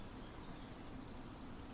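Cicadas chirping at night in a quiet field, a thin steady high-pitched drone holding constant throughout, faint and distant over a soft low background hiss.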